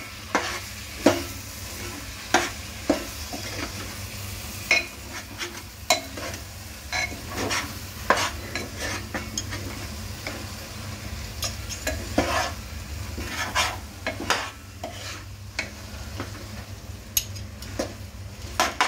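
Vegetable bhaji for the Makar Sankranti festival, with potato among the mixed vegetables, is stirred in a pan over low heat; a steady sizzle runs throughout, broken by frequent scraping clinks of the spoon against the pan.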